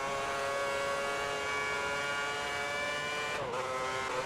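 Race cars in the F1 2010 racing game drone steadily on track at the Spanish Grand Prix, with layered high-pitched engine whine from lapping traffic holding constant and dipping briefly near the end.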